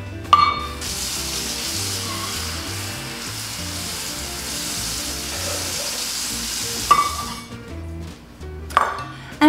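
A steady stream of water pours continuously into a pot for cooking rice, a broad rushing hiss with a few clinks and knocks near the start and end.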